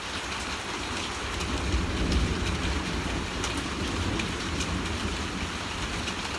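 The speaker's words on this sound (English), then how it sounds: "Okay, that thunder was a little further away." Steady rain hisses throughout with a low, rolling rumble underneath, like thunder far off, swelling slightly midway before settling.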